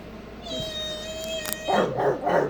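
A voice imitates a dog's bark, attempting a Chihuahua, as a thin, sustained whine-like tone followed by a few short rough yips, close and loud with a grown-up voice nearby.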